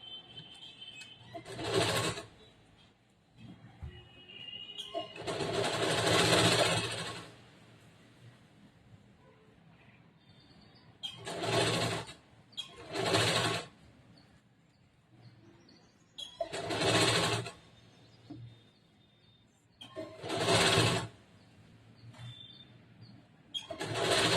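A sewing machine stitches the side seam of a blouse in short start-stop bursts, about seven runs of whirring separated by pauses, fairly close and clear with no talk.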